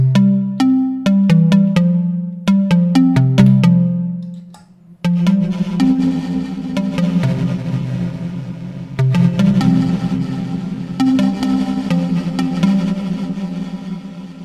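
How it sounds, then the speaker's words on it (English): Plucky synth patch played on an Elektron Digitone, a sequence of short, bright plucked notes in a quick melodic pattern, then a fuller, denser passage with sustained tones and echoing repeats after a brief pause. "this is a plucky sound, which clean sounds like this"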